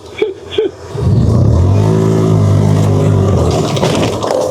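An off-road vehicle accelerates hard to jump a rise, its engine roaring loud and close and holding a steady, strained high rev for several seconds after a couple of brief knocks.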